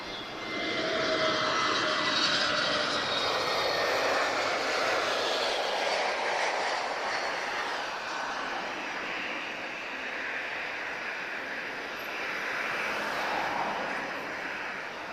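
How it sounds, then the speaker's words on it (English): A TAP Air Portugal Airbus A321neo lands at Lisbon after a flight from Paris Orly, giving a steady, fairly loud broadband jet roar with a whining tone that holds for the full length, with no voices. "Okay, A321neo inbound, TAP Air Portugal."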